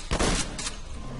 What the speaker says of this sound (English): You just use the shotgun to blow holes into this little block.